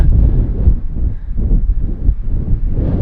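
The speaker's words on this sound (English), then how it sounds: "It's a bit breezy though." Strong breeze buffets and roars across the microphone on the summit of King Billy at sunrise, a steady gusting rumble with no voices.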